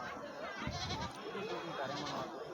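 Goat kids bleat in the crowded Narikalpatti livestock market, with close, wavering cries over steady crowd chatter and people talking nearby.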